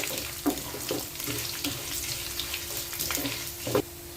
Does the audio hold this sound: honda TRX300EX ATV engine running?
no